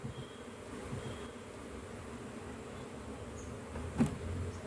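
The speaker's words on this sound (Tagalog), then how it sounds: "Kaya pala nagtaka ako kung bakit ang daming bubuyog sa labas." A steady, dense buzzing drone of many honeybees (Apis mellifera) from a backyard hive fills the air, continuous and moderately loud, with a brief bump in volume near the end.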